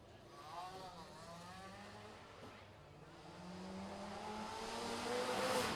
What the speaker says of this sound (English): It's got the Harrop Supercharger and inlet manifold on it, pushing out some 340 horsepower from the flat 4 Subaru engine.